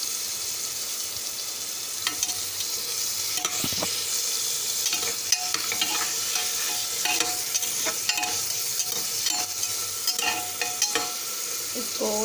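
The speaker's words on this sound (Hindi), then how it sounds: "और हमने ये ड्राई फ्रूट्स और पनीर भून लिए हैं, फ्राई कर लिए हैं घी में" Paneer cubes and dry fruits fry in ghee, with a steady close sizzle and repeated scraping stirs of a spoon in the pan, continuous for several seconds with no talking.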